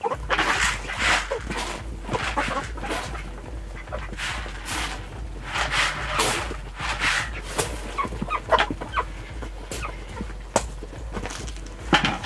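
Several chickens and roosters cluck and murmur nearby in a busy, scattered chorus, a low steady hum running underneath, on a snowy winter morning.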